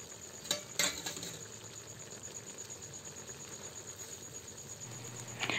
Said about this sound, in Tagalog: At pagkatapos ng 3 minuto ay haluin natin ito para hindi masunog ang ilalim niya